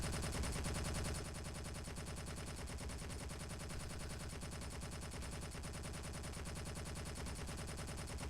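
Rapid, sustained gunfire from a ship's weapons in the space game Space Engineers, a steady dense rattle of shots lasting the whole stretch, loud and continuous with no talk over it.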